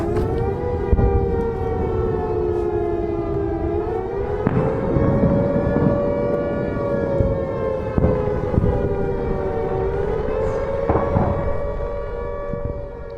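An air raid siren wails on its own, its steady rising and falling tone sustained loud for the whole stretch, with a few faint pops and knocks underneath.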